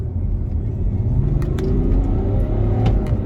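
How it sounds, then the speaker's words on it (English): A 2015 BMW X5 xDrive diesel with twin turbochargers accelerates hard from the cabin, a steady loud low engine rumble and road roar rising in pitch throughout, with no talking. "Let's give it some gas."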